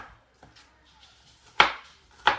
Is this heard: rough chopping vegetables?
yes